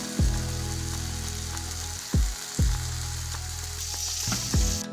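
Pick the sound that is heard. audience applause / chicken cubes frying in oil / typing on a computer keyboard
chicken cubes frying in oil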